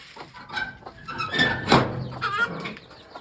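A hen clucking nearby in a loud, agitated burst of squawks and clucks that peaks in the middle, with no people talking.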